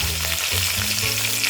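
Green chili drops into a hot tempering of oil with hing (asafoetida) in a pan for a Gujarati vadi papad shaak, making a loud, steady sizzle and crackle with a faint low stirring rumble beneath.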